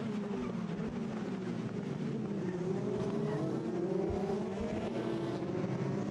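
Racing cars at Hockenheim running into the hairpin, a dense, continuous engine roar from several cars together, loud and steady throughout.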